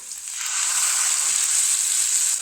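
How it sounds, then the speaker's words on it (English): Ginger and garlic paste sautéing in hot oil gives a steady, loud, hissing sizzle that swells after the first half second and holds evenly with no talking. "Some oil and add ginger paste. Then add garlic paste. Then saute it to puree."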